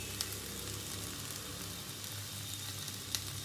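Okra frying in a pan after garlic chili powder goes in, giving a steady, even sizzle with a couple of faint clicks and no speech.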